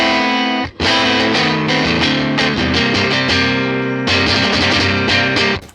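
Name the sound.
electric guitar through Fender Bassman amp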